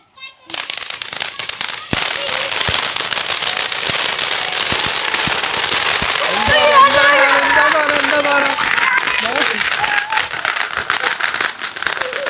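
Firecrackers go off for the Vishu festival in a dense, loud run of sharp pops and crackles that lasts several seconds. A short whistling fizz rises in the middle, and voices, including a child's, talk through the noise.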